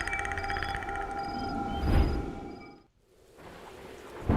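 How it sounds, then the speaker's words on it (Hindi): Storm sound effect of steady rain pouring on surfaces with a low rumble of thunder, loud and continuous, swelling around the middle before briefly dropping away and returning. "चारों ओर घने बादल छाए हुए हैं। तूफान उठ खड़ा हुआ है।"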